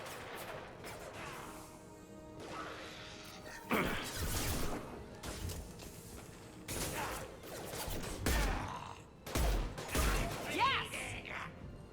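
Gunfire and impacts from Mass Effect 2 combat on Insanity difficulty with an Engineer, loud broadband bursts and crashing hits arriving in irregular clusters over a steady layer of game noise, with voices faintly mixed in.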